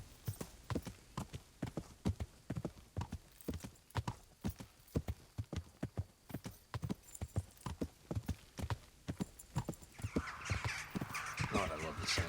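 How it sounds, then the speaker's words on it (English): Birds calling in the medieval world of the game Kingdom Come: Deliverance, with crow-like caws rising toward the end over steady horse hooves clip-clopping along at a walking pace. "God, I love the sounds of the birds"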